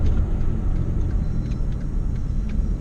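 A Hyundai Genesis Coupe R-Spec turning around, its engine a steady low rumble heard close from inside the cabin, with faint ticks above the drone and no talk.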